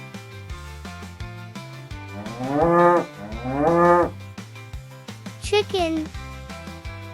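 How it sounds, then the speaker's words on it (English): A cow moos twice in long, deep, rising-and-falling calls, close and loud, over a bouncy children's music track with plucked notes. "Cow."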